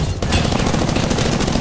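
Automatic and rapid gunfire from several players at once in Apex Legends, a dense continuous rattle of overlapping shots filling the whole moment, loud and close, with no talking.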